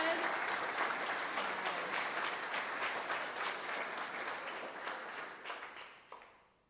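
Applause from a high school spring band concert audience for an award winner, a full crowd clapping that gradually thins and fades out, with a few last scattered claps near the end and a little talk underneath.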